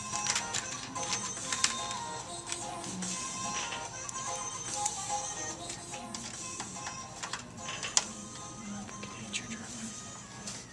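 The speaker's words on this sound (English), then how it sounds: "Alright, we're just screwing it in here. Getting it tight down." A PC power supply is screwed into its case, giving scattered sharp metallic ticks and scraping clicks over several seconds, with a voice in the background.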